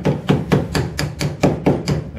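A nylon hammer strikes a painted plastic body part during a 1969 Ford XW Falcon restoration, landing about nine dull, even, close-up knocks in a steady rhythm with no talking.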